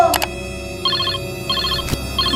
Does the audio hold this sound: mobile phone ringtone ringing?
yes